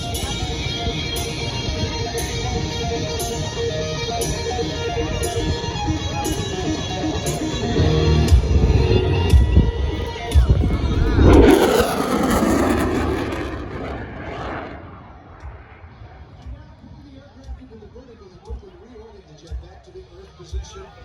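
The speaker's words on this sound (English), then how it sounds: "Watch now as the Super Hornet passes the high-speed pass." An F/A-18 Super Hornet jet makes a high-speed pass at an air show, a broad roar that swells loudly to a peak and then fades off into the distance, with crowd noise underneath.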